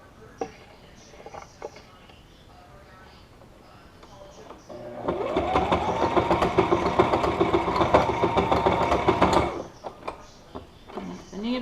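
A sewing machine stitches a DIY face mask, its motor whirring steadily for about four seconds mid-clip, loud and close, bracketed by quieter handling clicks before and after.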